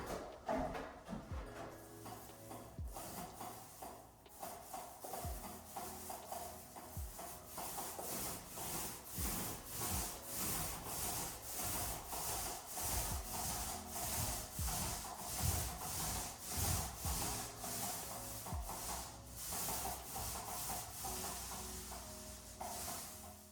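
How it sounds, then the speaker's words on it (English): Paint roller working paint across a nursery wall, a continuous soft sticky rolling and rubbing texture with repeated strokes, close and quiet throughout. "you'll hear me finally getting to roll, and the lovely sounds that come along with it"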